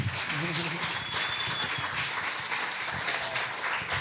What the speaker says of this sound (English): Let me get a round of applause for my guy,